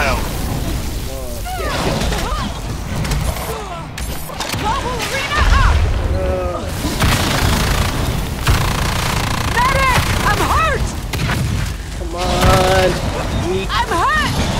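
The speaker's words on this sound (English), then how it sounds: "Have a missile!" Missile launches and explosions from the Evolve multiplayer video game, with rapid gunfire and booming blasts repeating throughout over loud battle noise, while voices talk over the action.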